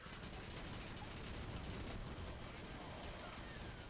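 Machine gun nest firing in the video game Battalion Wars, a dense continuous rattle of rapid shots amid battle noise, loud and unbroken across the whole stretch.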